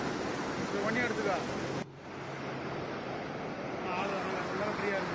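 Rushing fast-flowing water roars steadily with a broad, noisy wash, joined by gusty wind buffeting the microphone throughout, at a Siva temple in Hosur.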